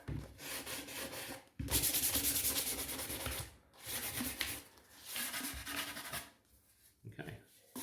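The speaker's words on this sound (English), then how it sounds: "Just run your sandpaper around it" Sandpaper is rubbed by hand along the sharp wooden edge of a ukulele kit body, a close, loud, steady scratchy rasp in long strokes broken by brief pauses.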